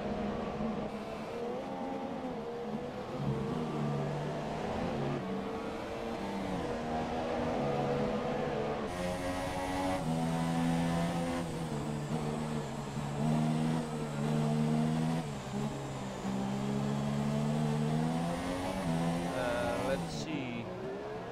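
Race cars circuit during a race, engines droning and shifting pitch in a steady, loud wash of sound with overlapping passes and revving throughout.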